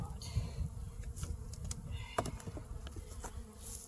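Honey bees buzz softly and steadily around hive boxes, a faint drone with occasional closer passes and small ticks, no voices present.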